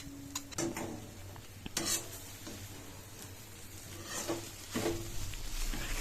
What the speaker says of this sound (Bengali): এরপর তৈরি করা কড়াইশুঁটির পেস্টটা আমরা কড়াইয়ের মধ্যে দিয়ে দেব, দিয়ে ভালো করে ওটাকে কিছুক্ষণ ধরে ভেজে নিতে হবে